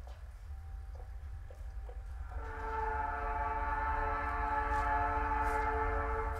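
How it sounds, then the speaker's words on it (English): Video game train in Night in the Woods rolls past, starting with a few faint clicks before a loud, steady train horn chord and rumbling wheels rise at once and hold close and sustained to the end. "I didn't realize how much I missed the sound of that train."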